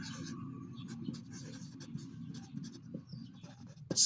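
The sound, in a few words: pen writing, sketching a curve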